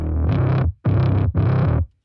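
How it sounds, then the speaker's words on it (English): Heavily distorted bass guitar played through an effects unit, with the grit applied to the low end: three sustained, fuzzy notes of similar length, loud and close, with brief gaps between them. "when you try to distort just bass frequencies, it always is going to sound gross"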